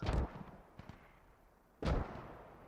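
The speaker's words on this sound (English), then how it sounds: "Mortar takes out another." Mortar rounds landing in the Squad video game during a large Russian assault: two heavy booms, a fainter thump between them, each blast hitting hard and decaying into a distant rumble.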